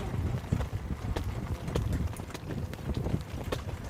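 Horse hooves pound a training track in a quick, steady clip-clop rhythm, close and continuous with no pauses.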